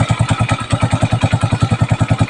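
A motorcycle engine runs close by with a rapid, even, thumping putter, loud and steady throughout.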